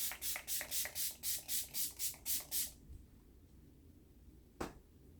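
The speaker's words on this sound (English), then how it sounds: "At least I'm going to use the setting spray." Hard Candy setting spray misted onto a face in about ten quick, rhythmic close bursts, followed by quiet and a single short sharp click near the end.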